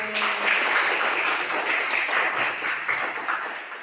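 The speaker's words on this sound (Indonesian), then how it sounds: "Kita tepuk tangan dulu." Students in a classroom clap their hands together, a dense, loud patter of many overlapping claps that continues steadily for a few seconds.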